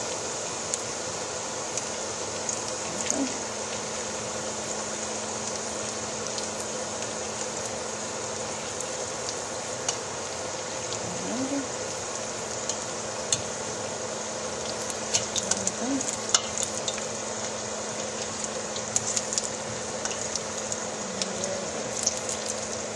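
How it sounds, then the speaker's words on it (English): Egg rolls (lumpia) frying in hot oil over lowered heat, giving a steady, moderately loud bubbling hiss that runs unbroken throughout, with a few faint clinks and taps on top and no talking. "There you see, very easy to fry them."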